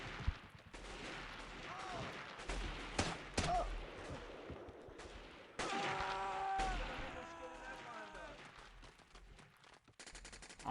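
Gunfire rings out in the 2002 PC game Delta Force: Task Force Dagger. Scattered single shots mix with rapid automatic bursts at varying distances, and the overall level stays fairly quiet.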